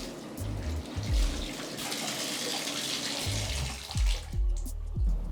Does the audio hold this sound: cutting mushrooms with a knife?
no